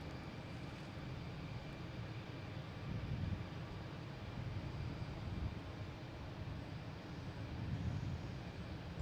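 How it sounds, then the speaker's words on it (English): An airliner in Oneworld livery takes off at Boston Logan Airport with a distant, steady engine rumble that swells slightly now and then, heard faintly and without any voices. "Oh, there's the One World taking off"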